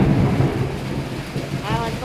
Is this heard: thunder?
yes